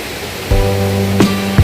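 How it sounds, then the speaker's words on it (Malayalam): Water flowing beneath an old concrete causeway bridge in a village in Idukki, Kerala, a steady broadband rush with a tonal engine-like hum joining partway through and a couple of brief bumps. "അതിൻ്റെ താഴെ കൂടെ വെള്ളം ഒഴുകി പോകുന്നുണ്ട്"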